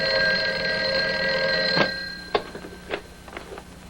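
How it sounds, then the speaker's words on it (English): An office telephone rings up close, a steady electronic trill through the first half, then several brief, sharp bell-like bursts follow at uneven intervals. "It's the answering service. They've got a Mr. Barber on the phone."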